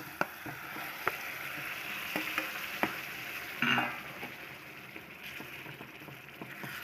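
A soft, steady sizzle of cucumber pieces frying in hot oil tempering, with a few sharp clinks and a brief louder crackle partway through.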